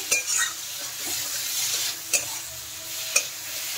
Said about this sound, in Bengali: এখন ভালোভাবে নেড়ে চেড়ে মিশিয়ে দেবো, আর এটাকে ভালো করে কষিয়ে নিতে হবে কিন্তু